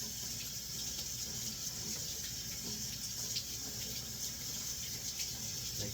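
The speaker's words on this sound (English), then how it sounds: "Make sure everything's getting rinsed off of it real nice." Tap water runs into a sink while produce is rinsed, a steady faint stream with light splashing and no talk.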